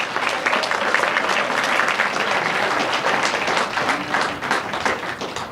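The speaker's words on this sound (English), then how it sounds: "let's give a round of applause for the staff at the Cultural Center and Trish and all of her people that have re" Audience at a volunteer appreciation luncheon breaks into dense, sustained applause that holds at an even level for several seconds, a faint voice or two beneath the clapping.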